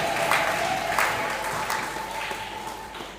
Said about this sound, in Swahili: Mshangilie Bwana kwa makofi na vigelegele.